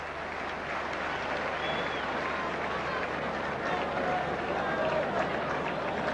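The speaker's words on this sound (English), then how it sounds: "Lee Crooks getting a sympathetic round of applause" A rugby league crowd at the 1982 Great Britain v Australia first test applauds injured Lee Crooks as he is wheeled from the field; a steady, broad wash of applause and crowd noise runs throughout beneath a commentator's voice.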